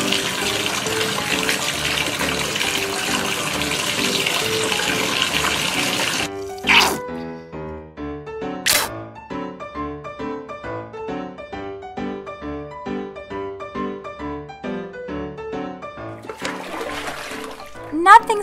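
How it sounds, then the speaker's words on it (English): Running water fills a bathtub for a morning bubble bath, a loud steady gush for several seconds that then stops, followed by music and brief splashes. "I'm gonna run a bath."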